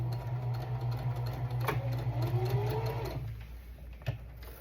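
A sewing machine stitches to the end of a straight seam and backstitches, its steady close whirring hum running for about three seconds before stopping and leaving a quiet room.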